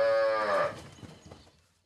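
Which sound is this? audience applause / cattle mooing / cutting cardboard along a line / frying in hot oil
cattle mooing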